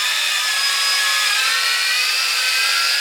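Motors on a repaired Tarantula X6 quadcopter drone whir at high speed as it lifts, a loud, close, steady high-pitched whine that holds without a break and has no voices over it.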